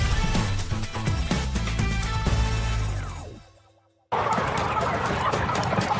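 Chickens cluck in a crowded farm shed packed with thousands of birds, a dense chorus that suddenly cuts to silence and then resumes just as busy.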